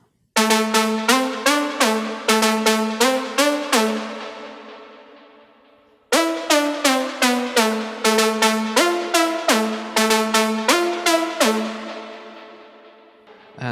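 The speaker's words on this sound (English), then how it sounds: "The lead sounds like this." A Serum synth lead using the Lead Atmo preset plays a bright, rapidly repeated melodic phrase whose notes shift in pitch, performed twice with a ringing tail between passes, and no talking.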